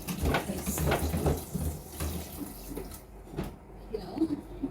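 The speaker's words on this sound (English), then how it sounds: "Let me put some cold water on it so it can just cool." Cold water runs and splashes over food being washed, an intermittent close splashing with clinks of a pot or bowl and faint talk beneath.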